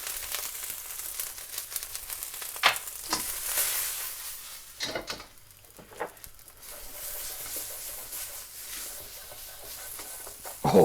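Ground spices frying in a pan with tomato puree, a steady close sizzle with stirring and scraping bursts, no talk.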